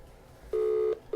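A phone call on speakerphone rings out with two steady electronic ringback tones, each about half a second long, separated by a short pause, fairly quiet and clear with no talking.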